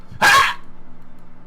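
A single short dog bark or yelp rings out once, fairly loud and close, followed by a low steady hum with no further barking.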